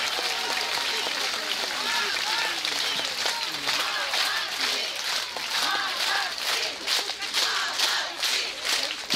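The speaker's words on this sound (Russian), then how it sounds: "Ваши аплодисменты!" Outdoor audience applauding a military band parade at the Astrakhan Kremlin, a steady dense wash of clapping with cheers and voices mixed in, loud and continuous throughout.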